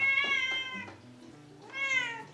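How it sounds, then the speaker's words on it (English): Cats meow in a room, with two long, drawn-out, fairly loud cries separated by a quieter stretch of softer mewing and purring tones. "if you hear any cat noises"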